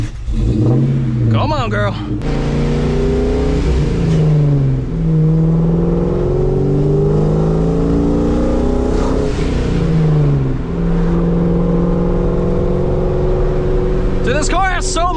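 A boosted New Edge Ford Mustang revs and accelerates up close, its loud engine note climbing and falling repeatedly through the whole stretch, with a brief spoken voice near the start.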